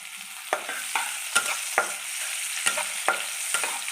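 Chopped onion and sugar frying in hot oil for a rohu fish kalia, a steady sizzle broken by about eight sharp scraping stirs of a spatula against the pan, close and moderately loud.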